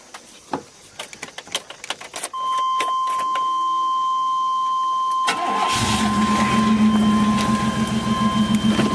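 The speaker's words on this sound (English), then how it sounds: "Let's give it a cold start and see how it goes." A car engine in a vehicle with cooling system problems gets a cold start after sitting two days: clicks and cranking, then a steady electronic chime, then the engine catches and settles into a loud, even idle.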